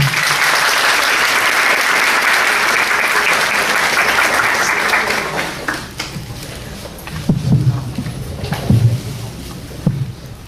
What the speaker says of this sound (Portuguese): Os aplausos de vocês,